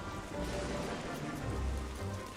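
Heavy rain pours during a storm in the video game Shipwrecked, a dense steady wash with low wind rumble beneath, moderately quiet and continuous.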